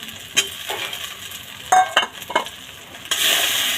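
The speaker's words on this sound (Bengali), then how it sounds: "তেলের মধ্যে কড়াইশুঁটির পেস্টটা দিয়ে দিলাম" Green pea paste sizzles in hot oil in a wok while a spatula stirs and scrapes it, giving irregular clinks and scrapes over a steady frying hiss.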